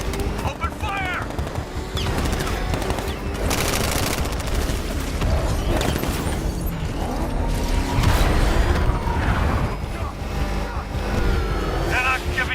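Rapid gunfire bursts from Batman: Arkham Knight rattle almost without pause, loud and close, layered over mechanical clanks, engine rumble and game voices throughout.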